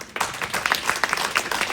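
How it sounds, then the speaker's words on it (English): Audience at a UN NGO forum parallel event clapping together, a short burst of dense applause with distinct claps rising after a brief quiet start, fairly close and loud. "give yourself a round of applause"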